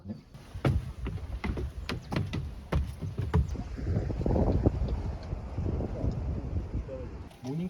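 Gusty wind buffets the microphone in low, rumbling surges on an outdoor trip in Yeongwol, Gangwon-do, with scattered knocks and people talking nearby.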